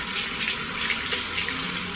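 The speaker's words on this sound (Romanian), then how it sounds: "Toată chestia asta, o spăl aici bine cu apă." Running tap water pours steadily into a sink while a makeup sponge is rinsed under it, a close, even hiss and splash with small fluctuations and no speech.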